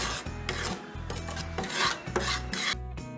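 Powdered moong dal is stirred in ghee in a pan over medium heat, a steady close scraping and rubbing of utensil against the pan in repeated strokes, with no talking.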